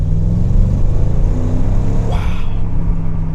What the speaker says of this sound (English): All I want is more supercharger whine